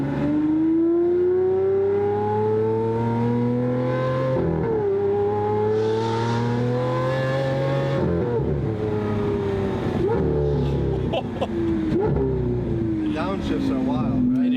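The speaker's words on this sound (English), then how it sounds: "Downshifts are wild, right? It is so violent." Lamborghini SVJ engine revving loudly through downshifts, a continuous close roar with sharp rising and falling pitch sweeps and crackling blips, with a voice talking beneath it.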